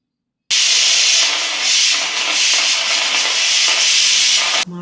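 Steam hissing loudly and steadily from a pressure cooker cooking Malabar-style coconut rice, a continuous broad rushing jet that holds for about four seconds before cutting off abruptly.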